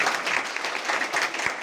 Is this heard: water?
no